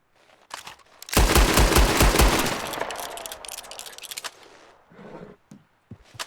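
Cannon revolver fired in a video game: a loud burst of rapid gunfire, a few close booming shots in quick succession, trailing into a long fading rumble, with a few faint later sounds and no talk.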